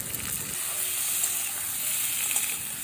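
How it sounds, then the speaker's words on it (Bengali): Tomatoes frying with potatoes and spices in a pan, an even close sizzle and hiss running throughout with no voices. "এবার টমেটোটাও এর সাথে ভেজে নেব।"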